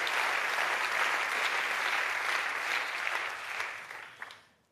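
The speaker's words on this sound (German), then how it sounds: "Danke für den freundlichen Applaus." A stand-up comedy audience gives warm, dense applause in a cabaret hall, a steady roar of clapping that swells briefly near the end and then dies away quickly.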